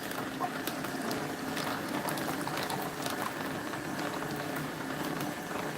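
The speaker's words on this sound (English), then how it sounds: "So let's empty" Beetroot juice pours out of juicer pots in a continuous gurgling, splashing stream, moderately loud and close, with no one speaking.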